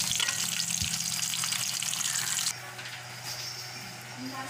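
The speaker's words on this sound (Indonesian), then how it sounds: "bawang kita goreng sampai layu" Onions frying in oil in a pan give a steady, fairly soft sizzle that drops a little in level partway through, with faint stirring clatter and no voices.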